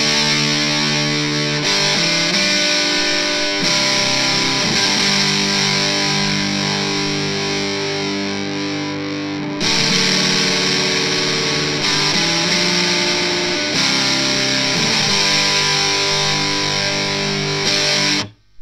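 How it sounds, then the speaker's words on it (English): An electric guitar runs through a modded MXR Distortion Plus pedal, giving loud, saturated, buzzing distorted chords and sustained riffs with a few short breaks between phrases before cutting off at the end. "I myself have owned an MXR Distortion Plus for many years."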